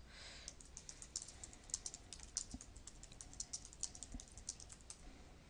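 Fingers type quickly on a computer keyboard, a continuous run of light, close key clicks with a few louder taps, and no talking.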